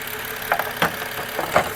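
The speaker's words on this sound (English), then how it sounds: "The engine is kind of quiet, as you can hear right now." BMW engine idling with a downpipe installed and the aftermarket quad-tip exhaust removed, a quiet, low rumble with a few soft ticking knocks.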